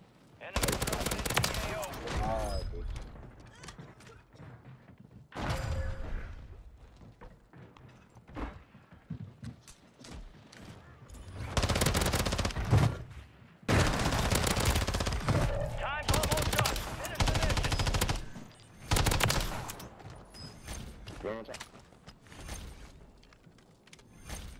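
Automatic weapons from a Warzone match, including an MP7, fire in repeated loud bursts of rapid shots separated by quieter gaps with reloading clicks and movement noises.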